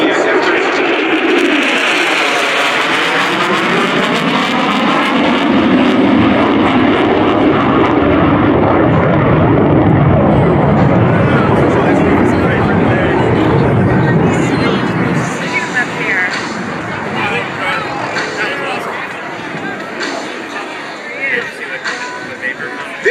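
F-35B Lightning II jet roaring past in a demonstration pass at the 2024 MCAS Cherry Point air show, a loud sustained rushing roar with sweeping pitch shifts as it passes, with crowd murmur and talk underneath.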